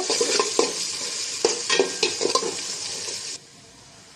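Onions frying in ghee in a pan for chicken biriyani, a steady hiss with clinks and scrapes of stirring, close and fairly loud, the sizzle dropping off sharply near the end.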